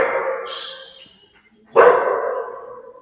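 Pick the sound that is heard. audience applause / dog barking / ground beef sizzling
dog barking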